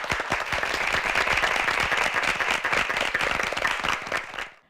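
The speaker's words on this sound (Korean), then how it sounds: "박수로 함께 해주시죠" Audience at a Korean high school debate competition applauds a speaker, dense steady clapping close by for over four seconds that fades out at the end.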